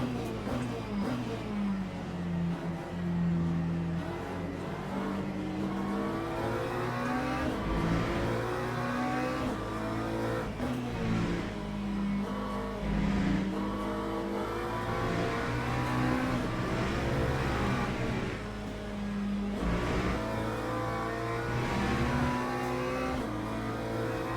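A McLaren GT3 race car in a racing game at Laguna Seca, its engine droning steadily and rising and falling in pitch through repeated upshifts and downshifts, continuous and prominent.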